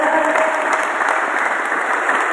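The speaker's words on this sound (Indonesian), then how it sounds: "Tepuk tangan untuk Pak Indra." Steady audience applause at an Indonesian official gathering with regional legislators, a loud, continuous wash of many hands clapping indoors.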